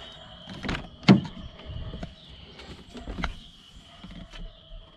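A few short mechanical clunks and whirring buzzes from a failing door lock actuator inside a Lexus GS300, with one sharp click standing out, close and moderately loud.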